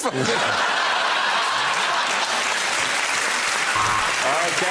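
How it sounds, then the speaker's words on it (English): A studio audience at a TV comedy panel show bursts into loud, sustained applause mixed with laughter and chuckles, close and full throughout. "give that round of applause to Ed Ceremonies"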